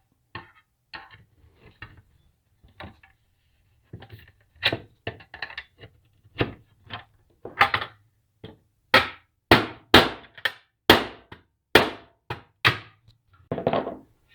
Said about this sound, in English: I'm going to flatten it out using, well, a hammer and a mallet.